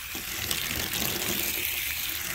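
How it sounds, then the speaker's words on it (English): Water from a hose flooding onto a car's coated paint surface, a steady close hiss and splash that runs continuously without pause. "we go to a flood, get a little bit more moisture on there"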